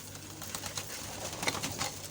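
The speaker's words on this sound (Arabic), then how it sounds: "هاي شباب طيور كافيه تاخذ راحتها بالاكل" Pigeons feed on calcium scattered on the ground, making faint pecking taps and soft coos at a quiet, low level.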